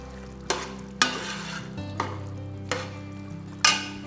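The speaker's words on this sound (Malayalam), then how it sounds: "ജസ്റ്റ് ഒന്ന് മിക്സ് ചെയ്യുക." Kerala-style spicy beef curry stirred with a tablespoon of coconut oil in a pan, with about five sharp, close scraping strokes spaced roughly a second apart over a soft sizzle and low background hum, with no voices.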